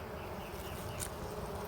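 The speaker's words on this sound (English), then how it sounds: "So we've got all the bees flying home." A close, steady buzzing drone of many bees flying home during a solar eclipse, with a faint higher whine passing briefly near the middle.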